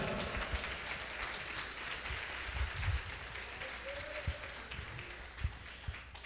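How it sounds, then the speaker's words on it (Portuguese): A church congregation bursts into applause for Jesus, a dense wash of many hands clapping steadily at moderate distance, tapering slightly toward the end with a few louder claps standing out. "Pode aplaudir a Jesus de Nazaré."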